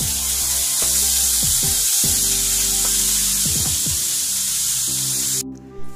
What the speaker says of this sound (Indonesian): Kemudian goreng ikannya.